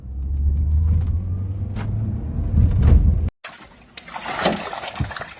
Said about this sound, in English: Alexa, liga o Corolla.